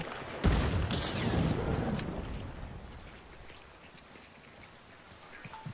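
Steady rain in the video game Hunt: Showdown patters on surfaces with a low rumble early on, fading to a softer, quieter drizzle toward the end.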